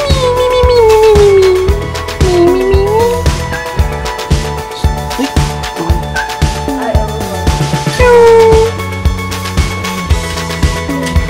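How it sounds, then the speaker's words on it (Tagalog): Several pet cats, including a Siamese, meow and yowl in drawn-out rising and falling cries at close range, with gaps of softer household noise and a couple of renewed wails. "Yan ang ating mga pusa."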